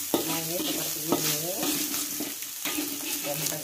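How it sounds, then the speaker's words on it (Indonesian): Potato pieces sizzle and fry in a pan over high heat while a utensil stirs and scrapes them in repeated strokes, close up, with no talking. "Dan kita goreng ini."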